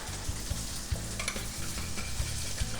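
A dressing of lemon juice, salt, pepper and sugar is stirred in a bowl, with a steady run of soft scraping and clinking and several low knocks spaced through it, close and quiet, with no talking.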